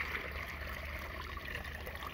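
Water trickles steadily from small holes punched in a little container onto dry soil at the base of a parched shrub or tree during summer, a soft continuous dribble heard close and alone.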